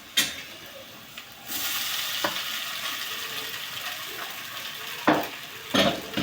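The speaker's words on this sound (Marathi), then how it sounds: "आता फक्त आपल्याला यात फोडणी" Hot tempering is poured into kande pohe and bursts into a loud sizzle that hisses steadily, punctuated by sharp clinks of a spoon against the pan near the start and end.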